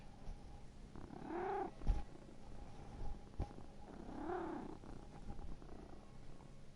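A cat purrs in Disco Elysium, two drawn-out purring phrases with a rising and falling murmur, heard up close with a soft thump between them and no talking.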